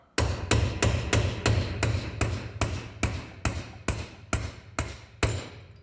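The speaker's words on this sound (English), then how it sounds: "And again, you're tapping, you're not beating the hell out of it" A hammer strikes a punch to loosen the pinion on a Dana 44 axle, about a dozen sharp metallic taps in a steady rhythm, close and loud with no talk.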